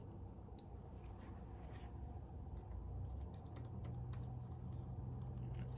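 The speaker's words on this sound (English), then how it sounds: "can hear how the keys sound. Pretty quiet." Quiet, irregular key clicks come from typing on a new MacBook Pro 14-inch keyboard, soft and close over a low room hum.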